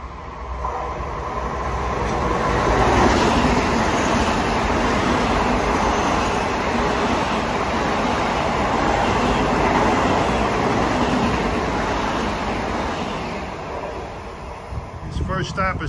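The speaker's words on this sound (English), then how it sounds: "Approaching eastbound on 2 at 510 is train 1962" Long Island Rail Road train 1962, an eastbound Ronkonkoma express out of Penn Station, approaching Merillon Avenue station with a steady, loud, rising-and-falling rumble and rail roar that holds for the whole stretch and thins slightly at the end.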